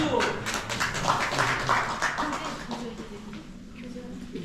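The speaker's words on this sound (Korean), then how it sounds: "박수!" An indoor audience at a lecture claps in a dense, sustained burst that starts loud and gradually thins out over a few seconds, with possible voices mixed in.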